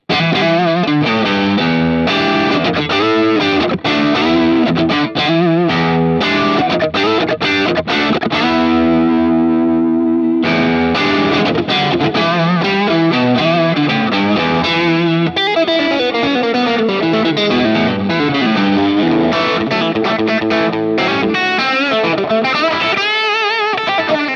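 A Stratocaster electric guitar plays through a Hotone Ampero's crunch clone of a Marshall Silver Jubilee amp, a loud, continuous overdriven run of chords and single-note lines with a brief sustained passage midway.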